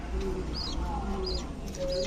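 Pigeons cooing at a pigeon seller's stall where Beauty, Danish and Saharanpuri breeds are sold, repeated soft coos over a steady low background hum, fairly faint with faint chirps.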